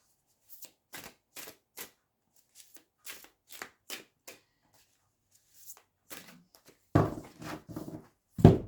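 Oracle cards shuffled by hand in a series of short, crisp riffling bursts with pauses between them, closing with louder, denser shuffles.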